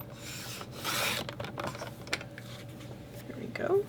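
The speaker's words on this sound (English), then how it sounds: "So we're going to just trim this so that it's even." Paper being trimmed for a scrapbook page gives a soft scraping, rubbing rasp with a few brief cuts, close and fairly quiet, with no talking over it.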